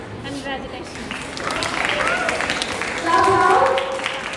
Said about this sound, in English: Come on, huge round of applause.